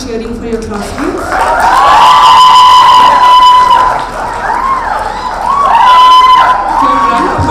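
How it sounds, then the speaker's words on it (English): A graduation ceremony crowd cheering and clapping for classmates, loud sustained whoops and shouts swelling in two waves, with a voice speaking over the noise. "Please continue cheering for your classmates."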